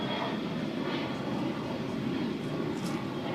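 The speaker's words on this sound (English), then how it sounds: "It's only when you have jets, you know, spooling up right in front of us." Jet aircraft engines spool up at Boston airport, a steady, loud broadband roar that fills the whole stretch without a break, with no voices over it.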